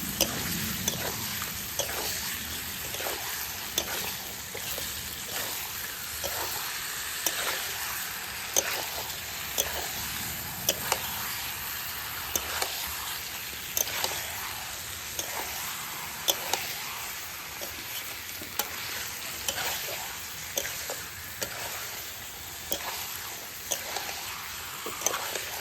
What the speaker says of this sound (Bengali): এখন মাংসটা কষাতে থাকবো যতক্ষণ না কষানো হয়।